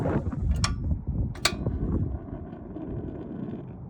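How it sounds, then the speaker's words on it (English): Wind blows steadily outdoors and buffets the microphone with a rumbling gust noise. Two sharp metallic clicks cut through early on, then the gusting fades slightly. "The wind is blowing the pilot out."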